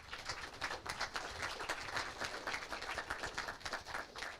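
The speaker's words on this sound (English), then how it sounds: "round of applause for our panelists" An audience at a blockchain meetup gives a round of applause for a panel, a dense patter of many hands clapping at moderate distance, fairly quiet and steady throughout with no talking over it.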